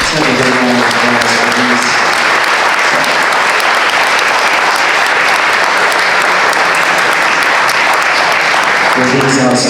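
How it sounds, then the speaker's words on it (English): A big, loud round of applause at a senior games banquet honoring the event staff, sustained crowd clapping with a voice speaking briefly at the start and end. "Let's have a big round of applause"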